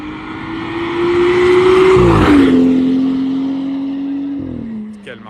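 BMW 1 Series engine revving hard while drifting at a car meet, a loud sustained droning note that climbs, dips and holds, fairly close, with a brief tail-off at the end.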